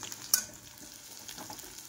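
Cumin seeds and chillies with onion sizzling in hot oil in a kadhai, a soft steady hiss with a sharp pop or clink near the start, fairly quiet and close, no talking.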